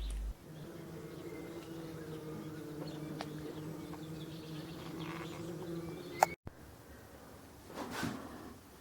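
Forest bees swarm at the side of a beehive, making a low, steady buzzing drone that holds for several seconds, broken by a sharp click and a brief louder rustle near the end.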